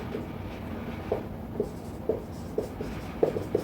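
A marker scratches on a board while a graph is drawn, giving short separate strokes about every half second, close and clear against a quiet room hum, with nobody speaking.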